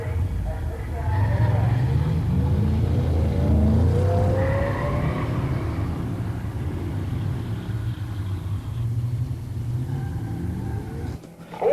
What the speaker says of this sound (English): In the far lane, Dave Lawson stages his 70 Cougar Eliminator 428 Cobra Jet